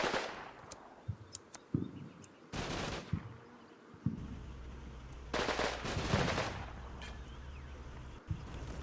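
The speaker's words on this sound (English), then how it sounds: "Unfortunately, that AT gun is still firing." An anti-tank gun fires in a WW2 battle in northern Sicily in Combat Mission: Fortress Italy. Several sharp distant reports and bursts of firing come at irregular intervals over quiet background battle noise.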